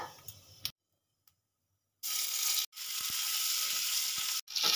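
Ginger and green chili paste dropped into hot oil in a pan over a low gas flame, a brief hiss at first, then silence, then a loud close sizzle that stops and starts again in bursts.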